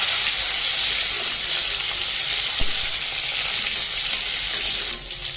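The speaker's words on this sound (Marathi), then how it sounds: "परतून घ्यायचं वांग्याच्या तेलामध्ये." Eggplant frying in oil gives off a steady, loud sizzle that holds evenly throughout, with one brief click near the middle and a slight drop in level just before the end, no voices.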